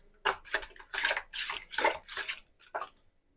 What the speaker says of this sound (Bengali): আর এর মধ্যে আমি আরেকটু জল দিয়ে দেবো, আর হাফ বাটি মতো জল দিয়ে দিলাম।